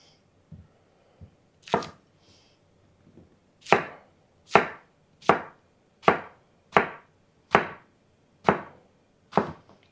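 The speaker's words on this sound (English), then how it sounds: "While you're cutting up your zucchini," A knife chops through firm zucchini on a board, a few light cuts then a steady run of about eight sharp, evenly spaced thwacks, close and loud.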